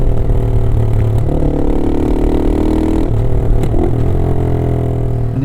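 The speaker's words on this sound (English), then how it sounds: "you fundamentally like the sound of a single cylinder engine" A Herald Brute 500 single-cylinder motorcycle engine rumbling steadily and loudly, its pitch easing down as it decelerates, with no talking.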